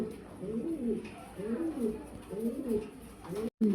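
Pigeons coo in a steady repeating rhythm, soft and close, several low throaty calls in a row before a brief cut.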